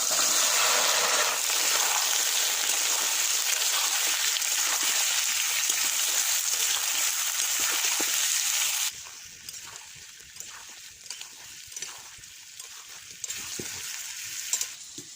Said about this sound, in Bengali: আমটা তারে ভাজা হোক